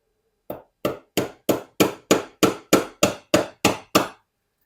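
A hammer strikes a rivet into a cycling shoe eleven times, a sharp close metallic tap repeated at a steady, slightly quickening rhythm with silence between blows.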